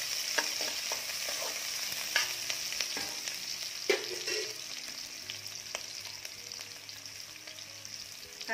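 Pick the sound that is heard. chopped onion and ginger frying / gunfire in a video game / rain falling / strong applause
chopped onion and ginger frying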